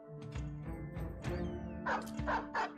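Dog barks and yips from The Forsaken, a game, sounding over a dense musical and battle background, several short repeated calls in quick succession.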